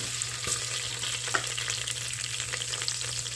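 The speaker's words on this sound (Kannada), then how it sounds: "ಸ್ವಲ್ಪ ಅಕ್ಕಿ ಬೇಯಲಿದೆ, ಸ್ವಲ್ಪ ಫ್ರೈ ಆಗಲಿ" Washed rice fries in a pan of oil and ghee, giving a steady close sizzle with faint crackles and the odd stir, and no talking.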